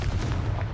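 A Confringo blast spell cast in the game Hogwarts Legacy, a short, heavy booming burst with deep low-end rumble and a few quick crackling pops, loud and close, lasting under a second.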